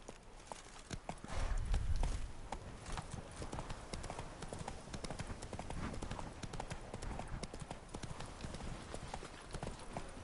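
Roach the horse's hooves clip-clop steadily in The Witcher 3, a quick continuous run of hoof hits on hard ground with faint game ambience and a brief deeper rumble early on.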